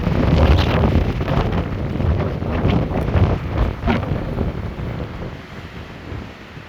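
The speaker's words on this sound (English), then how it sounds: "All right, we got a windstorm going on." Strong windstorm gusts in Billings, Montana batter the microphone with a loud, roaring, buffeting rush that surges and slowly eases toward the end, with no talking.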